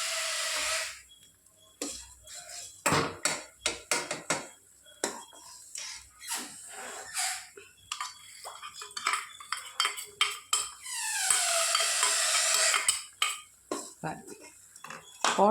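A metal spoon clinks and scrapes against a pan as tamarind puliodarai mixture is stirred while more is poured in. The strokes are quick and irregular, with a longer scraping swirl near the end.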